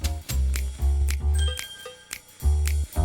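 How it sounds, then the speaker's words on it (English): A bell rings in a 1995 Schoolhouse Rock CD-ROM commercial: bright, clear chiming tones ring out in the middle of bouncy music with repeated bass beats. "Hey, there's the bell."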